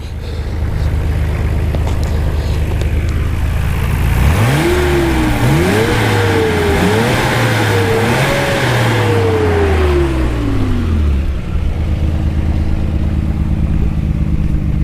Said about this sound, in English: So I'll give it a couple of revs.